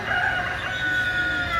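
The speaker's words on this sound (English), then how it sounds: "You hear those roosters?" A rooster crows in a long, drawn-out call in Copán, Honduras, fairly loud and clear against a soft background hum.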